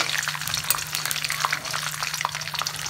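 Peanuts and curry leaves fry in hot oil with mustard seeds, giving a dense crackling splutter full of quick pops over a low steady hum.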